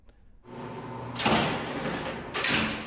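Prison doors at Richmond prison bang shut twice, each a loud, nearby metallic impact with a short reverberant tail, the second following about a second after the first.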